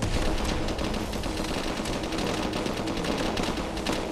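A turret machine gun in Call of Duty Advanced Warfare rattles in rapid continuous bursts, loud and close, with dense repeated shots filling the whole stretch.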